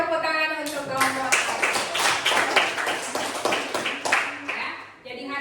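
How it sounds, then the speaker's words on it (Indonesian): A classroom of students applauding a student group, brisk, fairly close clapping from a modest number of hands that builds quickly, carries on for several seconds, then tapers off. "Kita kasih tepuk tangan untuk kelompok."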